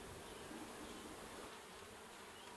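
Honeybees buzz in a steady, dense drone from inside an open hive during a frame inspection, a soft continuous hum without pauses.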